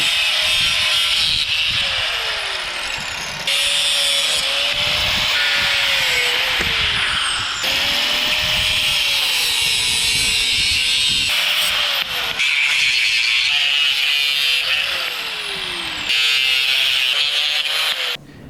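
A power tool cuts through rusted metal patio furniture legs in several loud, close bursts of high grinding whine, separated by short pauses, with no talking.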